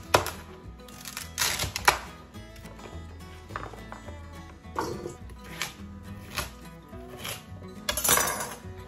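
Celery being chopped on a board for beef bone broth, with irregular knife thunks and clicks in short bursts, fairly close and moderately loud, with no talking.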